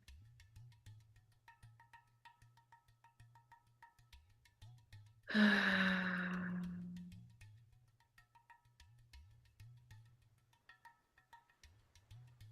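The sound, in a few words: a deep breath taken slowly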